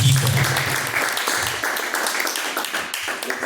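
A church congregation applauds in praise, a dense and continuous wash of many hands clapping that fills the room at an even level throughout, with voices faintly mixed in beneath.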